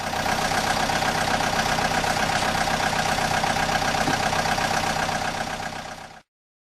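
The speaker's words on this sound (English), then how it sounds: "excavator" An excavator engine runs steadily at idle, a constant mid-pitched drone with a low rumble that holds even and loud throughout, then cuts off sharply near the end.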